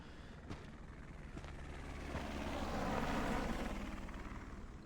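Helicopter in the video game Resident Evil Requiem, a steady rotor and engine drone that swells gradually louder toward the middle, with faint background clicks and no talk.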